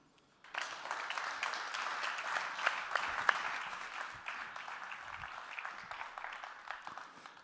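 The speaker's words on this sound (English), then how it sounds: "So please give a warm applause for Martin." A conference audience at Neos Conference 2023 breaks into applause after a short silence: dense, steady clapping from a sizable crowd that holds for several seconds and then slowly thins.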